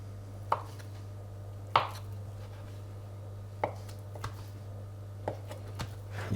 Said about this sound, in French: On va maintenant couper des morceaux.